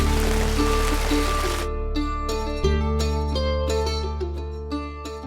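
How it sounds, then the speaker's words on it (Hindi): Heavy rain pouring down steadily in the mountains on the Madmaheshwar Yatra route, a dense continuous hiss with a low rumble that stays loud and constant throughout, with no talk. "भयंकर वाली बारिश"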